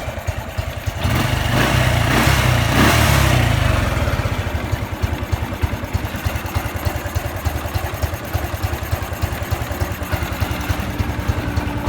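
A Honda Wave 110 motorcycle engine idles with a steady, rapid putter, briefly revving louder near the start before settling back into an even idle.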